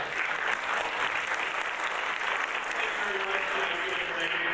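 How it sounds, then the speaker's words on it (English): An audience at a COPE mayoral debate applauds the candidates, a sustained, even patter of many hands clapping at moderate loudness, with murmured voices mixed in. "Let's give them a round of applause"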